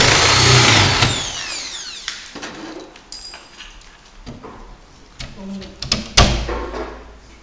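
Power drill boring a keyhole into a display cabinet, heard in short uneven bursts with clattering and knocks between them, while someone talks over the work.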